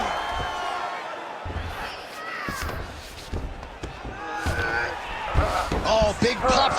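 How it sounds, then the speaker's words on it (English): An arena crowd in the EA Sports UFC 5 video game roars and cheers during a fight, rising into a louder swell near the end, with thumps and slams and a commentator's voice talking over it. "big pop from the crowd as they get back to their feet"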